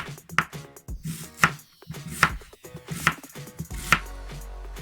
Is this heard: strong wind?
no